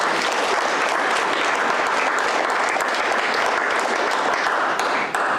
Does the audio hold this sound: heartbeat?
no